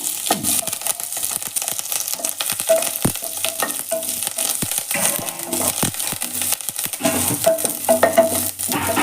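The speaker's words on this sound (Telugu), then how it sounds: "కరేపాకు వేయించుకుంటాం" Curry leaves fry in a hot pan at close range, with crackling sizzle and scattered sharp pops as they are stirred, steady and fairly quiet with no talking.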